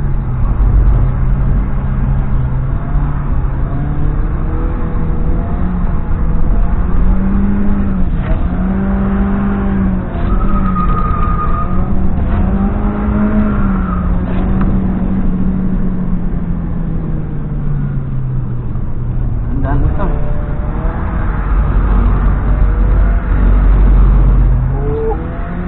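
A drift car engine revs hard after the clutch is popped, rising and falling in pitch through repeated throttle blips, loud and close with no talk over it.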